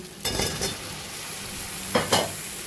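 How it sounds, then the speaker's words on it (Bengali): Boiled jackfruit and potato land in a pan of frying mutton mince, giving a low continuous sizzle and two brief bursts of stirring and scraping, close and quiet, with no voices. "এবার দিয়ে দেবো আমি সিদ্ধ করে রাখা এঁচড় আর আলু"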